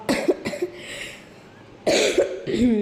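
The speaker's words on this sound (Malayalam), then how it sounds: "വോയിസ് ഓവർ എടുക്കുന്നതിനിടയിൽ ചുമക്കുന്നൊക്കെ ഉണ്ട്" A person coughs several times in quick bursts, pauses, then coughs again in a rougher cluster, close to the microphone.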